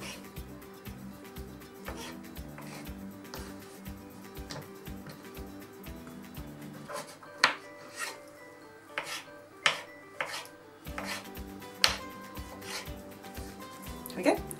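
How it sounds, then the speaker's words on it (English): A knife chopping spring onions on a cutting board into fine slices, first a quick steady run of soft taps, then slower, sharper individual cuts, close and clear. "so I'm gonna cut it in half and then some fine slices"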